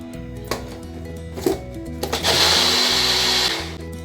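A mixer grinder whirs cooked tomatoes blended with water, starting in short pulsed bursts and then running in one loud sustained whir before cutting off, with no voices.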